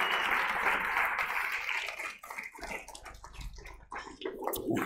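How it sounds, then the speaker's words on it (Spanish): Audience applause at the opening of La Gran Kedada Rural 2024, a rural gathering, full and steady for about two seconds before breaking into scattered, uneven claps that fade and flare. "Le voy a pedir a María Santorum un fuerte aplauso que me acompañe"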